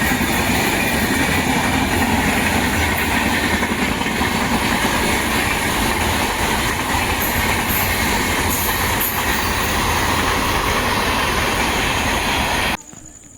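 A train rumbles past close by, a loud steady roar of wheels on rails with rhythmic clacking that cuts off abruptly near the end.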